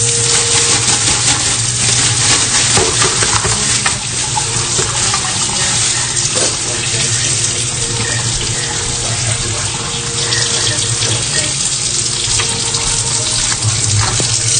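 Hot tap water runs steadily and loudly into a sink, a constant close splashing rush with no pauses throughout.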